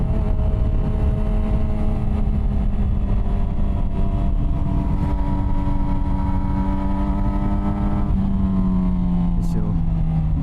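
A 2006 Yamaha R6 sport motorcycle cruising on a highway, its engine a steady close drone with harmonics that shift slightly as the revs change, under constant wind rush.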